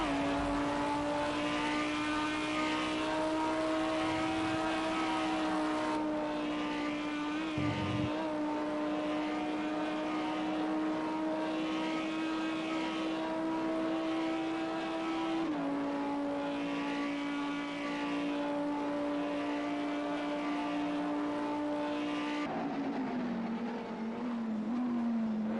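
Onboard engine note of a GT3 race car on a hot qualifying lap at Spa in a racing game, a steady high whine that shifts pitch with gear changes and braking, alone and unbroken.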